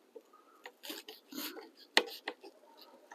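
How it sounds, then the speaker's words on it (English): An onion being cut into sections at a camp stove: a few separate, fairly quiet knife strokes and taps on a board in an irregular rhythm, with some soft handling noise in between. "Cut your onion."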